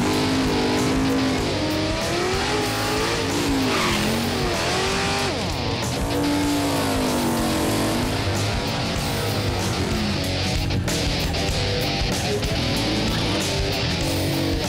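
Loud race car engines roaring and revving at Infineon Raceway in California at a drag racing final, continuous and close with rising and falling engine pitch throughout.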